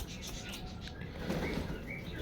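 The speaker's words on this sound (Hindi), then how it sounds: "वो देखें सारे आ रहे हैं पिजन माशाल्लाह" Pigeons flying in to feed, with soft wing flaps and faint bird calls over a steady outdoor background during a brief moment.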